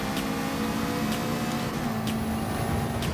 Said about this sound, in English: Car sounds so good here